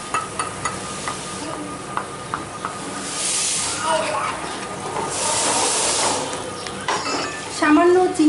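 Three tablespoons of whipped yogurt hit hot spiced oil with garam masala in a pan while prawns are being fried, giving bursts of loud hissing sizzle that swell and fade, with a few light clinks in between.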